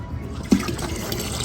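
Cold water runs from a hose into the tank of a pressure washing trailer, a close gurgling, splashing fill with a sharp splash near the start, then a steady liquid flow.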